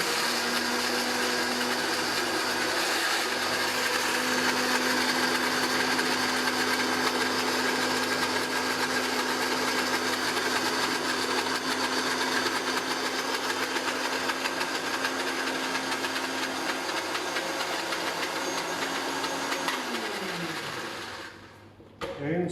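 A food processor blending pesto cream runs with a loud, steady motor whine and whirring blades for about twenty seconds, then winds down and stops.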